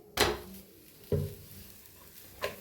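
A methi paratha being turned on a hot pan gives three brief knocks and clatters against the pan, with a faint sizzle between them.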